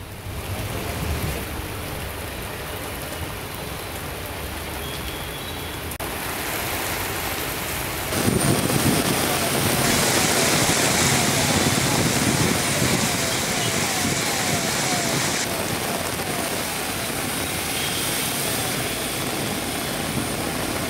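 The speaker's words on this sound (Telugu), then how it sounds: "నైరుతి రుతుపవనాల ఆగమనంతో హైదరాబాద్ వర్షంతో తడిసి ముద్దయింది" Heavy rain pours across Hyderabad streets at the onset of the southwest monsoon, a dense steady hiss that grows louder partway through and continues unbroken with no talk.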